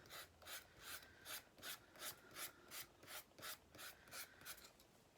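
Sandpaper rubbing along the edges of a painted wooden pumpkin shelf sitter, in about a dozen steady, evenly paced back-and-forth strokes, close up and alone without any voices.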